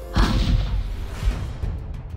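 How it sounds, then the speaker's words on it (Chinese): Fireworks bursting in a distant sky in a romance video game scene: a loud low boom opens, a second softer thud follows about a second later, with crackling hiss trailing off. "只见窗外远处天空炸开的礼花带起一条白色的烟痕"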